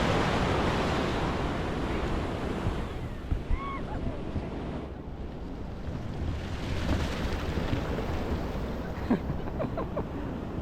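Ocean waves wash and roar steadily at the shore where parasailing takes place, with a constant churning surf and some wind buffeting the microphone. Faint voices are heard briefly.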